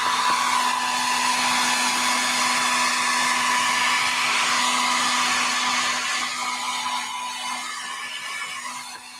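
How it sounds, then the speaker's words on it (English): A Conair blow dryer runs steadily and loudly with a constant whooshing airflow and a steady motor hum, tapering slightly toward the end; no voices. "Conair does make a good blow dryer, so I don't blame him for using it."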